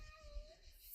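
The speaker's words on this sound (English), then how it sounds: "Sorry about the noise, cat noise." A cat meows briefly indoors, a single soft, drawn-out cry that is fairly faint and close by.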